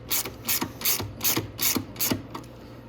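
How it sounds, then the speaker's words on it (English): A hand ratchet loosening a bolt on the control arm of a Venom Grizzly 125cc ATV, seven or eight even clicking strokes in a steady rhythm, close and clear with no talking. "I should just remove the bottom bolt of this."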